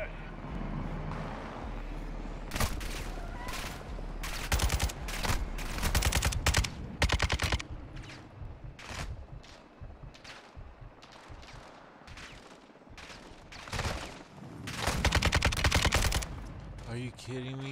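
Bursts of light machine gun fire in Call of Duty Modern Warfare II, sharp rapid volleys repeating in clusters over a rumbling battlefield bed, with a voice speaking between the shots.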